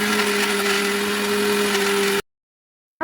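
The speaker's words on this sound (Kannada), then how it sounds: "ಒಂದು ಮಿಕ್ಸಿ ಜಾರ್ ತಗೊಂಡು ಎಲ್ಲ ಮಸಾಲ ಪದಾರ್ಥಗಳನ್ನು ಮಿಕ್ಸಿ ಜಾರ್ಗೆ ಹಾಕ್ಕೊಂಡು ಸ್ವಲ್ಪ ನೀರನ್ನು ಸೇರಿಸಿ ಚೆನ್ನಾಗಿ ಗ್ರೈಂಡ್ ಮಾಡ್ಕೊಳ್ತಾ ಇದ್ದೀನಿ." A kitchen mixer grinder loudly blends ginger, garlic and masala spices with a little water in a mixie jar, a steady whirring motor drone that runs for about two seconds and then cuts off abruptly into silence.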